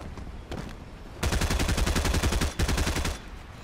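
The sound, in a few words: gunfire in a video game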